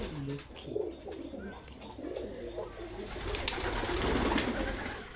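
Pigeons at a pigeon farm, including Lakkhi pigeons, cooing in soft repeated low phrases close by, with a few chirps and light flutters over a quiet background hum.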